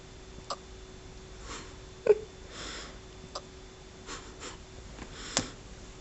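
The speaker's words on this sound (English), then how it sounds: "She's got the hiccups." A young puppy hiccups in a quiet room, giving several faint, sharp little clicks spaced irregularly a second or so apart, with soft breathing in between.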